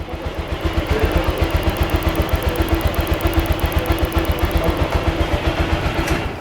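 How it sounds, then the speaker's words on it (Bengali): A 2019 TVS Stryker motorcycle engine idles close and loud, with a steady rapid thumping exhaust beat and mechanical clatter throughout. "আপনারা শুনতে পাচ্ছেন বাইকের ইঞ্জিনের সাউন্ড"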